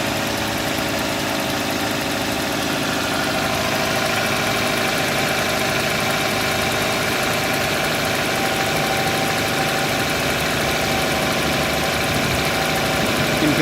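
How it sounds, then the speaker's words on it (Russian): A car engine idles cold on petrol at about zero degrees, with a steady, loud, continuous rumble and a faint rapid ticking running evenly through it. "холостые на холодную на бензине."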